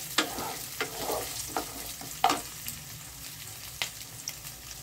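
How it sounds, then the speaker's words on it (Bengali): Garlic, onion, capsicum and carrot frying together in hot oil for a paneer curry: a soft, continuous sizzle with several sharp scrapes and taps of a stirring spoon against the pan, no talking. "এই তেলের মধ্যে আমি যে সমস্ত সবজিগুলো নিয়েছি, এই সবজিগুলো সব আমি এখানে দিয়ে দিচ্ছি"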